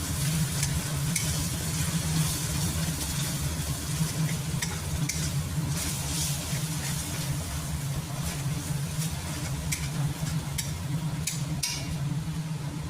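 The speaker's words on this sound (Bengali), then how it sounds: "এটা এখন যেটা এবার মশলাটা ভালো করে আমি কষাবো।" A spice paste of garlic, ginger and green chillies sautés in a pan, giving a steady sizzle and frying hiss with occasional stirring scrapes throughout.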